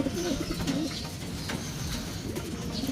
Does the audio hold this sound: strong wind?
no